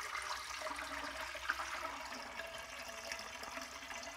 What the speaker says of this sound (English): So we're going to pop some water in this toilet here.